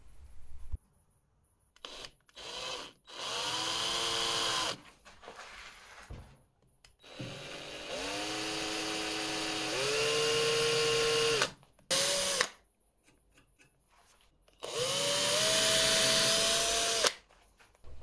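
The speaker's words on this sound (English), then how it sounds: "poke some holes for the line tie and the hook hanger and drill those out" A sandeel sea fishing lure has holes drilled for the line tie and hook hanger, several bursts from a small power drill whining up and down in pitch, close by, with short pauses between.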